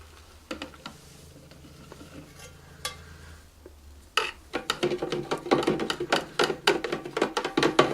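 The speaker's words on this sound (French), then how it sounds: "Et on n'oublie pas de mélanger." A homemade soap-bubble mixture containing 50 ml of glycerine is stirred in a container. A few scattered light taps come first, then quick, busy, repeated scraping and clinking strokes close by, with no talk.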